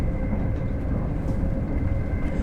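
A train running along the Riviera Line in the Train Sim World 6 game, a steady loud rumble of wheels and running gear with no pauses, heard alone.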